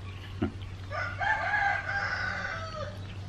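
Three roosters crow in long, overlapping calls over a steady low hum, with a few clucks at the start; the crowing fills the middle of the clip.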